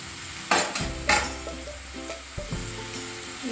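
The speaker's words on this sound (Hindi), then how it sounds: "अब मैं डालूंगी बॉइल्ड किया हुआ हक्का नूडल्स।" Boiled hakka noodles hit a hot pan for veg hakka noodles over a high flame, setting off a steady close sizzle with a couple of sharp clanks from stirring against the pan.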